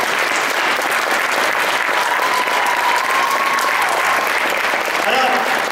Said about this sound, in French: Encore, on peut l'applaudir s'il vous plaît.